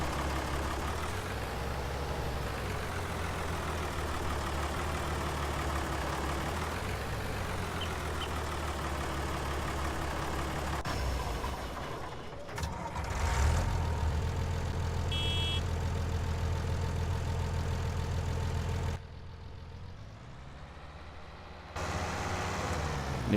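Tractor engine idling in the Farming Simulator 19 video game on the Ravenport map, a steady low diesel rumble heard close and continuous, with a brief shift in tone midway and a short quieter dip near the end, no talking.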